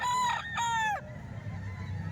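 A single loud, close crow from a Butcher-breed rooster lasts about a second, with a clear harmonic rise and a falling tail, then fades into low background rumble.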